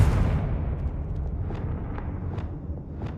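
In Hogwarts Legacy, a Confringo explosion spell lands with a heavy low rumble at the start that fades out, followed by several light, evenly spaced thuds or steps.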